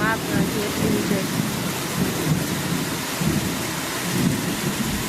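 Heavy monsoon rain pours down outside a house gallery, a dense, loud hiss of rain with repeated deep rolling thunder rumbles and a brief voice at the start.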